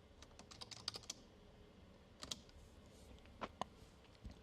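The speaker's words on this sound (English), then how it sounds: "We can type in our name" A computer keyboard clicks in short clusters of taps as a preset name is typed on a mixer's control interface, with pauses between the bursts, close and quiet.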